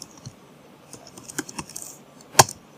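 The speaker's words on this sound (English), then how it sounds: "type in PHP" Computer keyboard keys click in a short, irregular burst of typing, close and clear, ending with one sharper louder keystroke; no talk.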